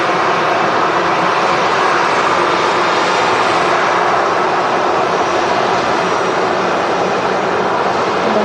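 Airbus A320 airliner engines at Manchester Airport, a loud, steady, broadband jet roar that fills the whole stretch, close and unbroken with no talk over it.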